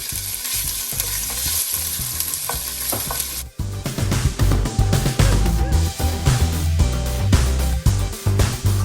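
Crushed ginger and garlic drop into hot oil, shifting from a thin crackle into a louder, fuller spluttering sizzle with busy stirring clatter, close and without talk.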